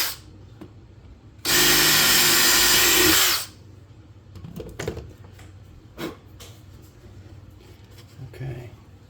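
Screw gun driving a bigger drill bit into a modern wooden wall sculpture: one loud, close whirring burst of about two seconds, followed by scattered knocks, handling clatter and occasional talk.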